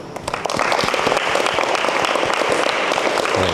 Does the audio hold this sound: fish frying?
no